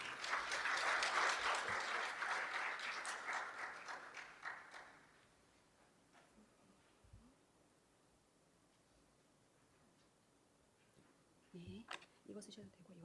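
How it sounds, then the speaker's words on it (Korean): Seminar audience applauding to welcome a speaker, a burst of crowd clapping that is strong for about four seconds, then fades out, leaving quiet room tone with a few taps and handling noises near the end. "여러분 큰 박수로 센터장님을 맞이해 주시기 바랍니다."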